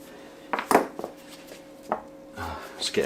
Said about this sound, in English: Just get a mallet, just tap that slightly.